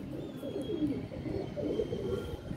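Domestic pigeons, several females kept in a loft, give soft repeated throaty coos, a low murmuring chorus close by with faint background hiss and no talking.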